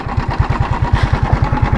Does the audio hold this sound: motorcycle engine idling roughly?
yes